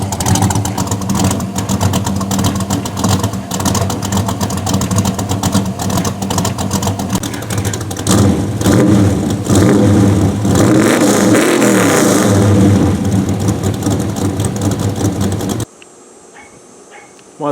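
A 1968 Chevelle 300 engine with many header leaks idling roughly near 1,200 rpm, then revving up in a few swells, loud and close with a ticking, raspy exhaust, cutting off near the end.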